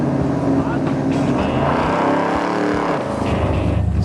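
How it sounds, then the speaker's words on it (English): Two 1964 Impala drag cars heat their racing radial tires before launch, making a loud, sustained engine roar with tire noise throughout, while a voice carries on over it. "both drivers heat up their racing radial tires for better traction"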